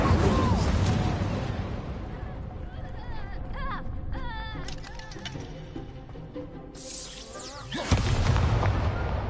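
Confringo fire spells explode repeatedly in the Hogwarts Legacy video game, with heavy booming blasts and crackling bursts over dense game music and combat noise, a loud burst returning near the end while shouted voices sound throughout.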